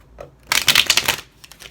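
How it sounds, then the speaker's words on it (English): Tarot cards riffled in a hybrid shuffle: a quick, close, crisp flutter lasting under a second, with a light tap of the deck before and after. "Shuffling up these cards here, right? I like doing the hybrid shuffle."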